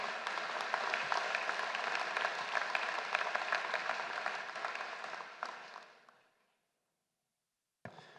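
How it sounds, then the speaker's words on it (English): Commencement audience applauding a college trustee: a broad, sustained wash of clapping that holds steady, then fades out to silence, followed by a brief sharp sound near the end. "Let's give a big round of applause for Trustee Palos."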